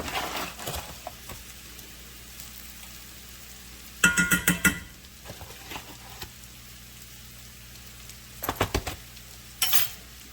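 Flour is stirred into a sizzling pan for a deconstructed beef Wellington, with a soft, steady frying hiss broken by several sharp bursts of utensil scraping and clinking against the pan.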